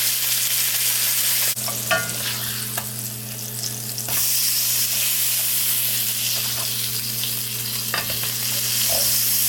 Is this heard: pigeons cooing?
no